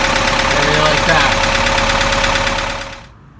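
A 1965 Scout 800 engine idles with a steady, loud mechanical drone and regular firing pulses, then cuts off abruptly near the end, leaving near silence.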